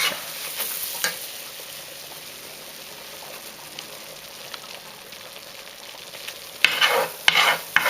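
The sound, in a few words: stirring a roux of flour and fat for gumbo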